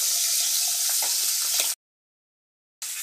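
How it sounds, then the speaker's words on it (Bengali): A catla fish head drops into hot oil for a mung dal, setting off a loud, dense sizzle that runs steadily for under two seconds, breaks into silence, then resumes. "তেল গরম হয়ে গেছে। এবার মাছের মাথাটা আমি ছেড়ে দিচ্ছি।"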